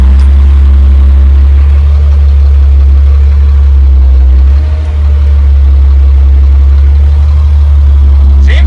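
A high-mileage 2003 Cummins diesel truck engine idles loud and close, its deep, even rumble holding steady throughout with a brief dip midway.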